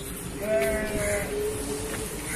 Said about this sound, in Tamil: இன்னைக்கு காலையிலேயே செம்மறி ஆட்டு கூட்டம் நல்லா உற்சாகமாக துள்ளி குதிச்சுட்டு வீட்டு முன்னாடி போகுது